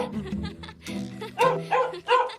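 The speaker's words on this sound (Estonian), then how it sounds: "See haukumine ajab mu hulluks." A cartoon dog in an animated series barks and yips in a few short bursts, close and fairly loud, mixed with voice-like sounds.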